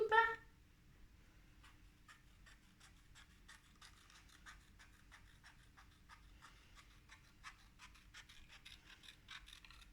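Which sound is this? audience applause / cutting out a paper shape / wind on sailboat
cutting out a paper shape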